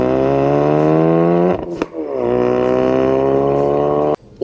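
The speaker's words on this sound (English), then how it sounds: "The Focus RS sounds like this" Ford Focus RS engine revving hard up through the gears, close and loud, with rising pitch, a sharp drop at a gear change, a second climb and then an abrupt cut-off near the end.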